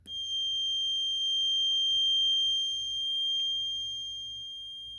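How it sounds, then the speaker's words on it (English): A piezo buzzer wired in parallel with a charged capacitor gives a steady, pure high beep that holds for several seconds, then gradually fades as the capacitor discharges. "first we'll charge up the capacitor and listen to the decay."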